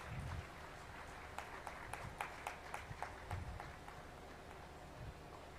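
Audience at a university convocation ceremony applauding graduating students, scattered sharp claps in a hall, faint and fairly distant, with sparse irregular bursts rather than sustained ovation.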